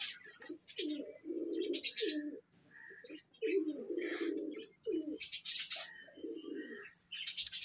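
Pigeons cooing in repeated low, throaty phrases at close range in a domestic pigeon loft, with brief pauses between calls and light chirps and bird noises around them.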